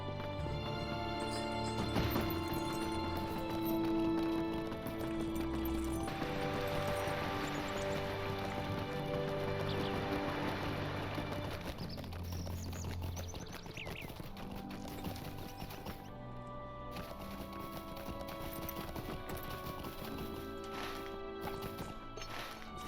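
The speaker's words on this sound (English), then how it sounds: "Let me get on the horse." Horse hooves clip-clopping at a steady gallop in Lord of the Rings Online, a continuous rhythmic beat running under layered game music and ambience, with no talking.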